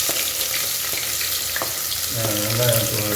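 Onions sizzle and fry in a pan for a Tamil-style fried fish curry, a steady close crackle with a brief clink partway through and a low hum joining near the end.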